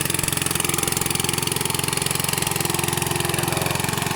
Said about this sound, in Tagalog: napakaingay ang makina.